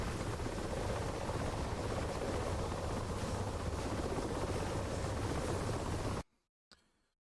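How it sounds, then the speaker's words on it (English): Mi-24 helicopter flying during a simulated combat incident exercise: a loud, steady broadband rotor and engine roar fills about six seconds close by, then cuts off abruptly into near silence. "Some very cool helicoptering happening here at the moment."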